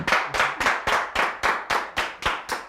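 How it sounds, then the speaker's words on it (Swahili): Hands clap in a steady, evenly spaced rhythm about nine times, close and fairly loud, as applause for a group at a lively event. "Makofi ya The Pastors."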